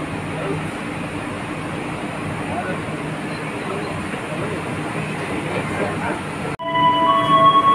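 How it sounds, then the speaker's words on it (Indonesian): An Argo Dwipangga express train rushes straight through Kutoarjo station at about 120 km/h, a sustained roaring rush of wheels and carriages that cuts off abruptly, leaving a quieter hum with tonal sounds. "kereta api Argo Dwi Pangga melintas langsung stasiun Kutoarjo"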